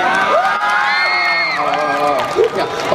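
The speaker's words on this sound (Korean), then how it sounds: "박수 한번 주세요" Crowd at an outdoor public radio broadcast at Lotte World, Seoul, applauding and cheering with high shouts and whoops, loud and continuous throughout, with voices mixed in.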